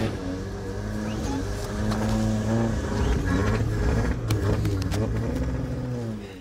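A homemade amphibious Subaru Vivio motoring along, its small engine giving a steady, loud droning hum with a rising and falling pitch, heard from inside the vehicle under faint background noise.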